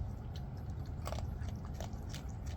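A raccoon crunches dry cat food up close, with a few distinct biting and chewing crunches clustered mid-way over a steady background hiss.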